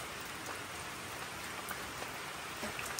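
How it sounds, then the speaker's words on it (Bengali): Steady, even rain falls in a dense hiss with occasional louder drops, unbroken for the whole stretch. "আসছে জোরে, মনে হচ্ছে দেখো। হ্যাঁ একটু জোরে জোরে হচ্ছে, হবে।"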